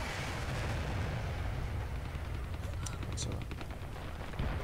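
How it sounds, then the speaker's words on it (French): A fire-support artillery strike pounds in the shooter Dirty Bomb, with heavy, continuous rumbling blasts and sharp gunfire cracks while a player talks over the barrage. "Je crois qu'il y a eu des tirs là-bas, je balance ça au cas où. Fire support incoming."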